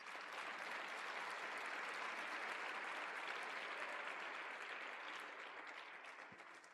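A church congregation applauds in a sustained, even wash of many hands clapping, moderately distant, holding steady for several seconds before tapering off at the end.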